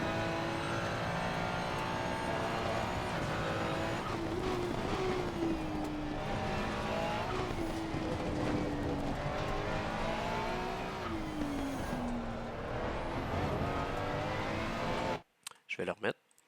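A car coasts on the Paul Ricard circuit, engine note droning and gently falling as it slows toward braking, tyre and road noise steady beneath, with someone talking over it before the sound cuts off near the end.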